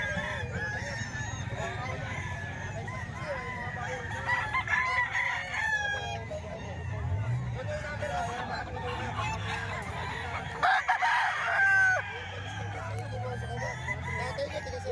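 Several roosters crow repeatedly among clucking and honking fowl, with low murmuring voices in the background.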